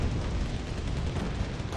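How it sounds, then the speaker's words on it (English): Bombs dropped by a B5 bomber detonate in the real-time strategy game Wargame Red Dragon, a loud, dense rumbling roar of blasts that fills the short stretch continuously with deep low-end weight and no talk over it. "Look at this explosion."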